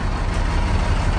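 An International dump truck that sat for 15 years runs just after starting, a loud, steady low engine rumble close by with no talking.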